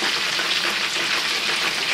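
Breaded chicken frying in hot oil for a crunchy chicken burger gives a dense, steady sizzle. The crackling is loud and close, with no voices over it.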